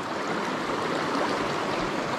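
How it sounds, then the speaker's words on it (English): Stream water churning in eddies behind a rock in the Blue Ridge Mountains of Virginia, a steady close rushing burble with no pauses. "I like the moving water in the eddies behind the rock"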